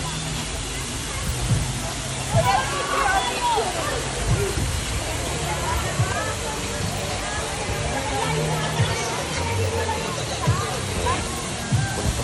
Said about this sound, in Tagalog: Dampalit Falls sa Las Bañas.